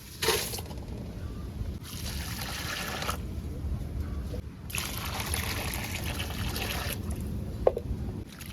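Shrimp are rinsed in water in a few separate bursts of splashing and dribbling, with quiet pauses between them.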